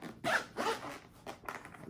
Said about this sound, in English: Zip that.